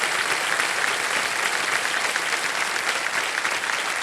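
Studio audience applause on a TV quiz show, a dense, steady wash of clapping that holds at an even level for the whole stretch with no voices over it.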